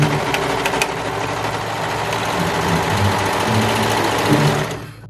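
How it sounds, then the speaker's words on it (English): A Brother 1034D serger stitches through two layers of fabric with a fast, steady mechanical whir and rattle. The machine runs alone and winds down at the end. "let's see how many layers the Brother 1034D can sew through"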